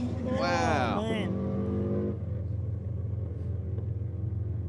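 A Subaru WRX race car drives past at a track event, opening with a loud, rising engine whine and shifting harmonics, then settling into a low rumbling drone; a voice talks over it.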